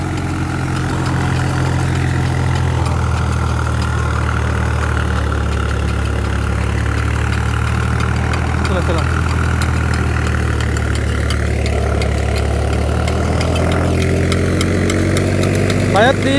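A 3-cylinder 39 hp tractor pulling a large 2-metre rotavator through a field, its engine droning steadily and loudly with a deep, constant low hum throughout.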